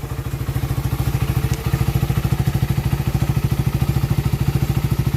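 A Suzuki Raider 150 motorcycle with a carburetor idles close by in a steady, even, rapid putter that holds loud and unchanging throughout, with no voices.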